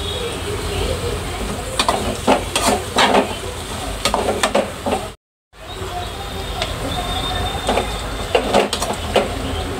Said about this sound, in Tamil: வெங்காயம் சேர்த்துட்டு பூண்டு, பச்சை மிளகாய், இஞ்சி சீவி வச்சது எல்லாமே சேர்த்து வதக்கிக்கலாம்.